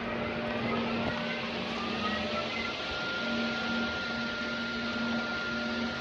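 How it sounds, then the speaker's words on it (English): Loud, steady machinery drone with a constant low hum and broad whirring noise from lift motors running continuously in an enclosed lift motor room in London. "in the lift motor room. So as you can see, they're all the tops of the lifts."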